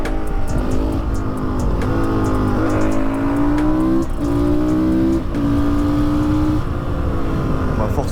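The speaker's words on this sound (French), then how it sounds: "J'ai l'impression d'être sur une moto qui a toujours eu envie d'aller attaquer la route" A road-legal Honda CRF 450 supermotard motorcycle engine revs and accelerates up through the gears in a series of rising whines with brief dips at each shift, loud and close, with wind rushing underneath.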